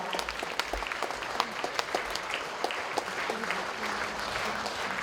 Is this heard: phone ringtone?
no